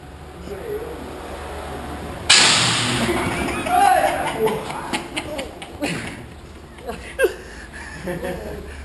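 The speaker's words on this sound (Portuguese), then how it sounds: "Eles vão dar um disparo de canhão de ar nele" A sudden sharp air cannon blast bursts out, followed by scattered thuds, rustling and people chattering and laughing nearby.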